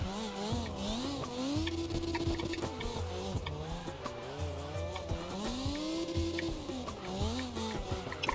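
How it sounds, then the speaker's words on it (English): A drift car in CarX Drift revs hard, its engine pitch climbing and dropping through shifts and downshifts, while tires squeal continuously in a loud, sustained slide. "Had to downshift just now."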